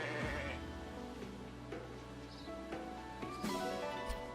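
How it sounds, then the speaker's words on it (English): A sheep bleats in a peaceful village in the video game Fire Emblem Engage: a few short bleats over a busy game background of music and ambience, fairly close and moderately loud, with no talking. "I'll just steal this person's sheep."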